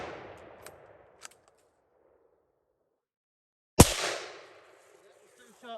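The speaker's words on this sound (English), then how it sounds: "Two shots right there" A rifle fitted with a muzzle brake fires outdoors: one sharp, loud crack followed by a long rolling echo, with a fainter earlier report and small knocks nearby.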